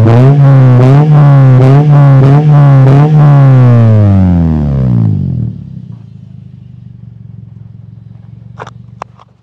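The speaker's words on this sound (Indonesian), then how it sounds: "Suaranya nih double muffler tapi merdu karena suaranya itu nggak terlalu sember ya." A restored former taxi's double-muffler car exhaust revs in a series of deep, throaty bursts with a bassy rumble, then drops to a low idle, followed by a few sharp clicks.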